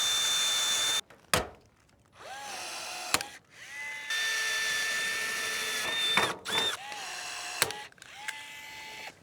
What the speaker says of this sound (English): we're just gonna go ahead and put a rivet in